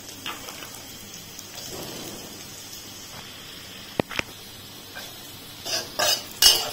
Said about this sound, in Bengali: গাজর গুলোকে ভালোভাবে ভেজে নেব